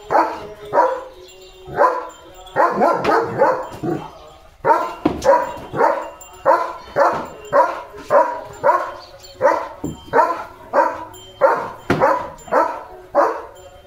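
A German shepherd barks at passing cattle, repeatedly in short bursts, loud and close, with brief pauses between volleys and no talking.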